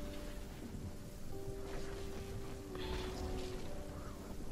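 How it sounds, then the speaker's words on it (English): Storm rain and rolling thunder in the video game Fortnite, a steady wash of rainfall with low rumbles swelling midway and near the end, fairly quiet and without talk. "Oh, the storm sounds different."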